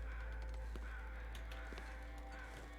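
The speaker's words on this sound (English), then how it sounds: "all the freaking crows" Crows cawing in a video game, faint and distant, a few scattered calls over a steady low ambient rumble.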